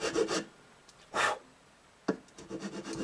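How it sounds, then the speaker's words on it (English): A nut file rasps a string slot in the nut of a Martin D28 guitar, making several short, quiet scraping strokes separated by pauses. "then I'll take that nut file and we will put a new nut in there, a new slot, and make it have 18 thousandths on that string"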